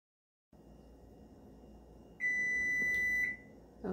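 A kitchen oven timer sounds one sustained, clear electronic beep lasting about a second over a faint room hum, with no talk.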